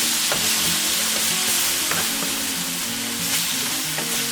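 Chicken and mushrooms sizzle steadily in a wide paella pan while a utensil pushes them toward the edge, giving a loud continuous hiss with light scraping taps.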